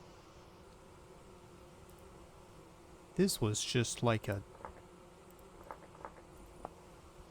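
Bees buzzing in the video game Vintage Story, a short burst of buzzy droning rising over a quiet ambient bed, then a few faint chirps, with someone speaking briefly.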